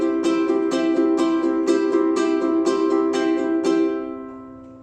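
Ukulele strummed quickly in a steady down-up pattern on one held chord, with evenly spaced bright strokes for about four seconds before the last chord rings out and fades.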